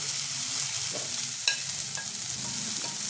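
Onions, eggplant and tomato frying in a pan give a steady close sizzle, with brief stirring scrapes and a spatula clink near the middle, no voices.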